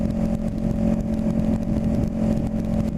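A Honda CB500 motorcycle exhaust droning steadily while riding at about 60, a loud close engine hum with a constant pitch and wind buffeting, no voices.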